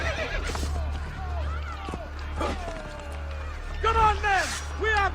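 A horse in the video game Assassin's Creed Brotherhood neighs and whinnies several times amid clip-clopping hooves and game sounds, with voices talking over it.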